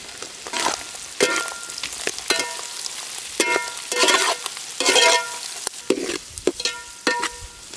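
Onions sizzle in a pan over a village cooking fire while a spoon scrapes and stirs them in repeated short strokes, close and crackling with no talk.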